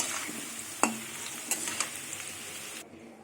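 Potatoes fry in oil in a home kitchen pan, giving a steady close sizzle with a few sharp clinks of a utensil against the pan before the sound cuts off abruptly near the end.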